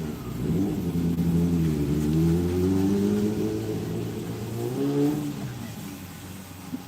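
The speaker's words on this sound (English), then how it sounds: "That was a motorcycle." A motorcycle passes by outdoors, its engine a steady mid-pitched drone that rises gently as it draws closer, then eases off slightly before swelling again near the end, heard alone without talk.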